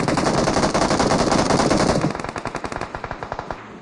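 An M4 rifle fires in full-auto in a video game, a loud dense burst that breaks into distinct rapid shots trailing off toward the end, heard alone without talk.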